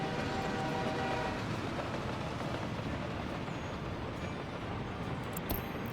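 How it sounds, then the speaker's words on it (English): Waste train rolling in Workers & Resources: Soviet Republic, a steady, loud rumble of rail cars and wheels on track, continuous and close throughout, with a brief sharp sound near the end. "Right now I have the waste train."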